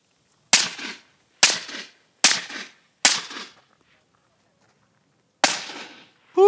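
Unsuppressed AR rifle gunshots: five sharp, loud cracks with short decaying echoes, four in quick succession about a second apart, then a pause before a fifth, with no talk over them.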